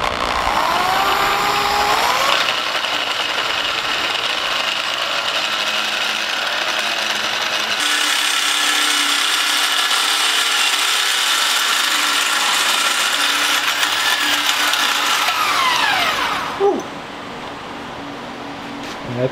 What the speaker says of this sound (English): go over our RogueFab tubing notcher, notch this thing up, and get it welded in